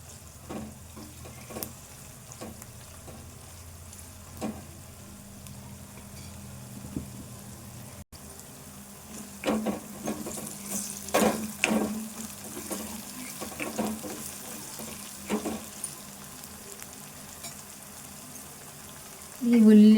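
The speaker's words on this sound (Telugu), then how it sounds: "వీటితో పాటు ఈ మిర్చి తాలింపు అంతా కూడా వేగుతుంది." Onions and dried red chilli tempering sizzle in a pan on a home stove, a steady low fry broken by a few louder spits and stirring clatters.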